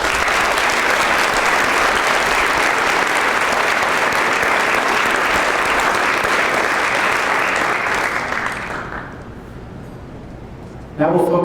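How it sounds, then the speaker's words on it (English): A large audience at a high school National Merit and Advanced Placement scholar recognition ceremony applauds steadily and loudly for honored educators and scholars, the clapping tapering off near the end before a brief burst returns. "Let's give them a round of applause."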